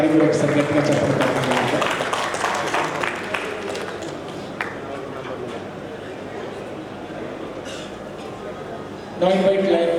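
A crowd applauds loudly at the Nizamabad Lions Club anniversary. Dense clapping runs through the first few seconds and then thins to a softer patter under voices. A new burst of clapping rises right at the end.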